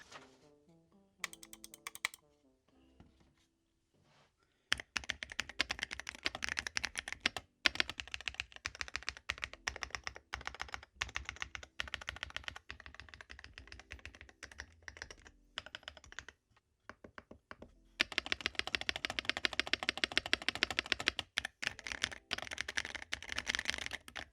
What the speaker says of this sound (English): So let's sound test